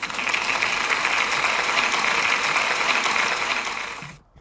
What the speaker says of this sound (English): So can we give Liam a big round of applause?